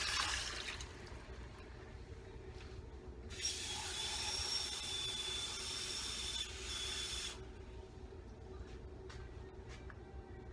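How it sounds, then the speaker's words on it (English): Water is poured into a pot for chicken tinola soup, making a steady splashing hiss for about four seconds, fairly close, set against a quiet kitchen background. "Four cups of water."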